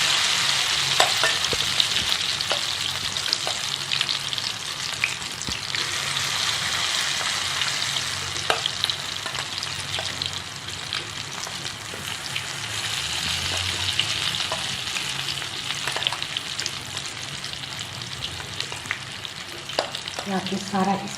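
Marinated chicken pieces fry in hot oil with no breadcrumb coating, giving a loud, steady sizzle with occasional stirring clatters and crackles throughout, alone with no voices.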